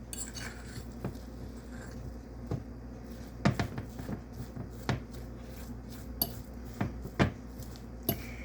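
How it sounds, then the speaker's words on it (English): A spoon mixes breakfast cookie dough made with crumbled protein bars in a bowl, giving scattered dull scrapes and soft clinks against the bowl, irregular and fairly quiet, with some louder knocks in between. "So just keep on mixing them up till you get it mixed up real good."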